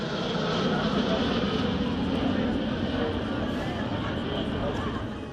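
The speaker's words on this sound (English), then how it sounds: "And here we see 6 Czech-built L-39 Albatros jet trainers" Six Czech-built L-39 Albatros jet trainers of a Latvian civilian display team flying at the BIAS 2019 airshow in Romania, a steady, distant jet roar under someone talking.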